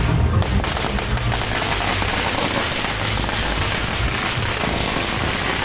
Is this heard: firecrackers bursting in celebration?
yes